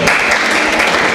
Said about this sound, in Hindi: कृष्ण शर्मा जी आगे, इनके लिए तालियां बजाइए